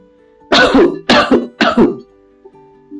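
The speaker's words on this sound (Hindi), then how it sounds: "उन्होंने अपना गला साफ किया और थोड़ा सा खांसी भी।" A woman in a children's story clears her throat and coughs in three quick, close bursts, loud and near, with a fainter rasp trailing after; no one speaks.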